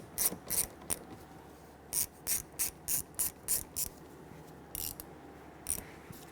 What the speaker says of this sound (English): We're going to use a T25 Torx bit with our 1/4-inch ratchet.